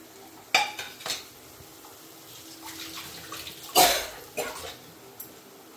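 A potato and spinach mixture is stirred in a pan, with a handful of irregular scraping strokes, some sharp and close, over a soft background hiss.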